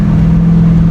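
A 2015 Dodge Charger SRT Hellcat roars under a full-throttle pull, its engine holding a loud, steady drone heard close from inside the car.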